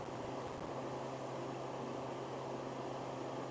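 A Harvest Right freeze dryer hums steadily as it runs through a freezing cycle, a constant close mechanical drone with broadband fan-like hiss and no speech.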